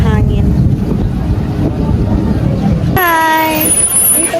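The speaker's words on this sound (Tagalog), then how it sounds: "Masyadong mahangin." Strong wind near Mayon Volcano in Bicol buffets the microphone in a constant loud rumble, while someone talks through it at the start and excited higher voices chatter near the end.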